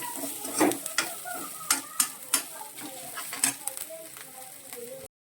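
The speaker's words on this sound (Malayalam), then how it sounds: "ഈ അരപ്പിൻ്റെ പച്ച ചുവ മാറുന്ന വരെ ഒന്ന് സോട്ട് ചെയ്യണം." Masala paste for shrimp thoran sizzling and being stirred in a pan, with steady frying hiss broken by repeated scraping clinks of the spoon against the pan.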